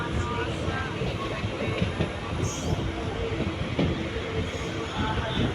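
A passenger train on the Dindigul to Karur line runs through the old Eriyodu junction, a steady loud rumble of wheels and carriages rolling past close by, with faint squeals and rattles throughout.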